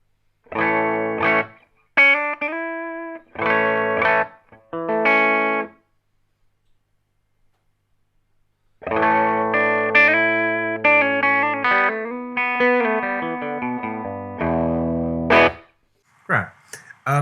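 Overdriven electric guitar through a Fractal FX8 drive effect, playing loud distorted chords and riffs in two bursts separated by a few seconds of silence, the second passage longer with some single picked notes near the end.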